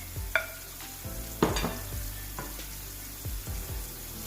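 Mushrooms frying in a pan for beef stroganoff are stirred and scraped, soft repeated spoon scrapes every half second over a quiet sizzle, close and alone.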